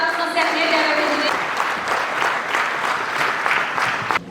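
An audience at a documentary film presentation breaks into loud, sustained applause to welcome a speaker to the stage. Brief talk opens before the clapping fills the room, a dense patter that continues to the end.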